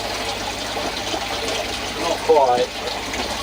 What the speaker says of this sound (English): Oh, I can hear it. We've got water going through.